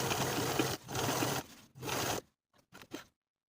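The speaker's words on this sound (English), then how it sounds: "We're going to sew basting stitches along the sleeve cap from outer notch to outer notch." A sewing machine runs basting stitches along a jacket sleeve cap in three close bursts of fast whirring, then a few short stitches before stopping.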